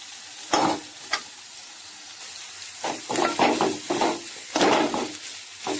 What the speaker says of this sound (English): Deep fried, how frying.